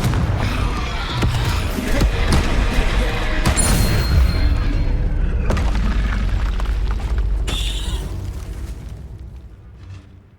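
A Confringo blasting-spell explosion in the Hogwarts Legacy video game: a loud, sustained rumbling boom with crackling bursts layered over dense low-end noise, slowly fading toward the end.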